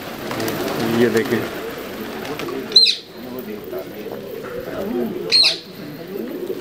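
Pigeons in a loft of white house-bred birds coo and chirp softly and continuously. Someone talks over them, and two brief sharp bursts stand out.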